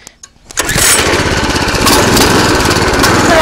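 A homemade go-kart's small engine sputters a couple of times, then catches and revs loudly under more throttle, holding a steady, rough roar close by for the rest of the stretch.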